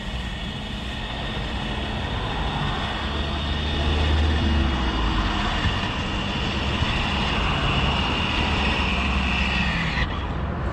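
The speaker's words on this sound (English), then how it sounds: "by simply pressing and holding down the 2 top buttons, the motors will automatically engage onto the tyres" Caravan mover motors whirring steadily as they drive the rollers onto the caravan's tyres, a continuous droning hum with a high whine that holds for about ten seconds before cutting out.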